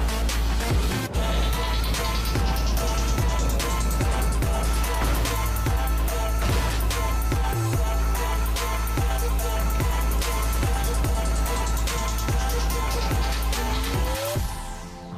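Racing cars in the driving game Asphalt 9 Legends roar continuously at full volume, with engine notes rising and shifting, tire squeals and impacts, and no talk.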